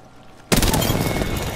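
Rapid automatic gunfire erupts loudly from near silence in the Apex Legends video game, a dense burst of shots that stays sharp and sustained until the end.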